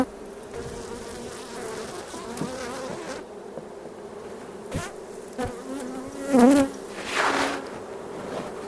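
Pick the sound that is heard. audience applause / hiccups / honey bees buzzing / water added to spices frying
honey bees buzzing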